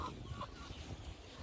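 Chickens on a small farm cluck softly in a brief, faint burst, a few short calls heard over a low outdoor rumble.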